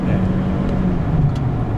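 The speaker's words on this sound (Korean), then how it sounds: "얘의 그 킥다운 반응이 나고요 그리고 확실히 엔진 톤이 많이 좋아졌어요" A 9th generation Toyota Camry hybrid engine drones loud and steady during a kickdown at highway speed, with road and tire noise inside the cabin over a brief stretch.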